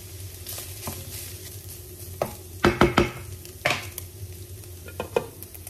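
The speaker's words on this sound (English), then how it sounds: "And then now we can add our onion." Onion frying in a pan for glass noodles with shiitake mushrooms, a steady close sizzle punctuated by several sharp scraping stirs of a utensil against the pan.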